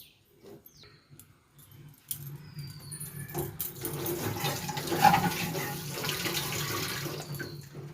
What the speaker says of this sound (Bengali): আর ওই যে কড়াই টড়াইগুলো এবার একটু ঝটপট ধুয়ে নিই।